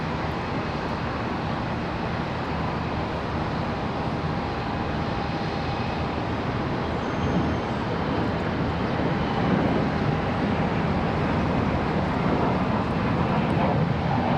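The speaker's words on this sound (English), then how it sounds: "this 737 that's pushing back, both of those getting ready for departure" Continuous loud broadband jet roar at Charlotte Douglas airport as a Boeing 737 pushes back for departure, steady and unbroken with a faint whining tone, no voices.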